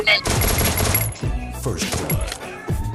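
Rapid gunfire bursts from the Free Fire video game, several loud close volleys of shots with short gaps between them, under excited talk.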